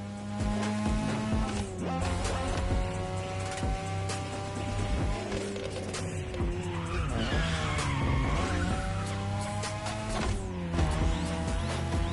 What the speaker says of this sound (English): show me some real toge driving.